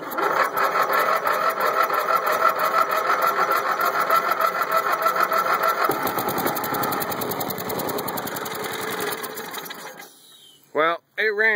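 Small gasoline engine that has been sitting unused, started after choking, running with a rapid, buzzy, steady rattle for about ten seconds, close and loud, then cutting out abruptly before a brief final burst.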